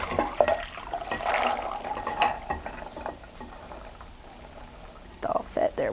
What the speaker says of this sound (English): I will pour them into a colander and drain off that